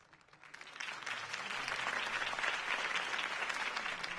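Crowd applause at a political campaign rally in the Batman Telltale video game, swelling quickly from a faint start into steady, sustained clapping and cheering.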